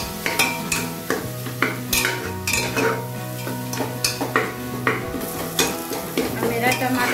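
Masala and tomatoes frying in oil for mutton curry, stirred with a metal spoon in a pan: loud, close, rhythmic scraping and clanks repeating over a steady sizzle.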